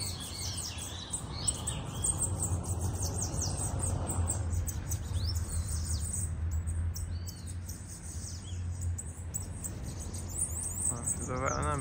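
Small birds chirp in a tree, quick high tweets and trills scattered over a constant broadband outdoor hiss, fairly distant and not very loud, with no clear talking.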